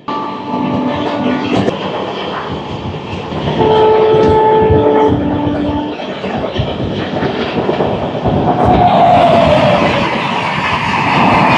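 The 18447 Hirakhand Express arrives at Jagdalpur with loud, close rumbling and clattering of rail cars, while long horn tones sound over the din and the noise swells midway and stays heavy.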